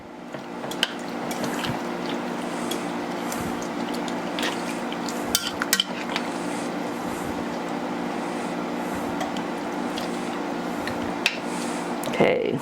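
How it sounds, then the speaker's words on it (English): Shrimp being stirred into a jambalaya pot, with wet squelching and scraping of a spoon through the thick mixture over a steady background hum, and occasional clinks against the pot. "I'm just going to stir that in."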